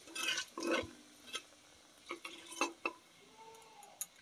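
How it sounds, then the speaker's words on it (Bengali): Kalonji seeds and a dried red chilli fry in oil in a pan for an ilish curry while a utensil stirs them. Several irregular scraping and clinking strokes sound close by over a faint sizzle, with no voices. "হালকা করে একটু নেড়ে নিলাম।"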